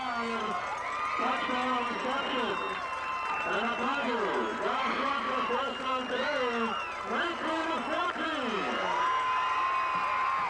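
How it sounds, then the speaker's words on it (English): A spectator crowd roars and cheers through a 1991 New Jersey high school football playoff semifinal, the noisy stadium swell sitting beneath continuous commentator talk. "As you can hear, this crowd is excited."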